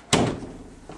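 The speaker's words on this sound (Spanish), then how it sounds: "¿Por qué se cerraron las puertas del baño?" Bathroom door slamming shut, one loud close thud followed by a fading tail and a faint second knock near the end.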